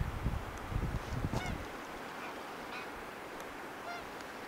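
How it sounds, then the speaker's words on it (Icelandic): Geese honk overhead on an outdoor hillside: a few faint, distant calls rise above steady wind rumble, and after a brief gusty start the background settles into a constant hiss. "Gæsirnar að gjamma hérna yfir mér."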